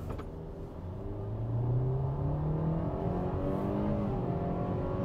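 Hyundai Creta engine accelerating in sports mode, a rising rumble and whine that climbs through the revs and holds strong, heard from inside the car without talk.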